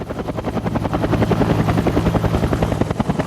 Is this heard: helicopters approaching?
yes